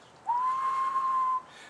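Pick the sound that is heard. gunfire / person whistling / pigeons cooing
person whistling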